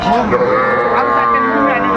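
Young calves and cattle mooing at a calf market in Faridpur, Bangladesh, with several overlapping moos and a busy crowd murmur throughout, fairly close and loud.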